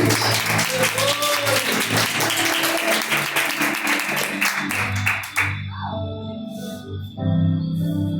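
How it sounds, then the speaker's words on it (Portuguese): A church congregation claps in loud, continuous applause for about five seconds before it stops abruptly, followed by a quieter room with a low hum and a little talking. "Palmas para Jesus"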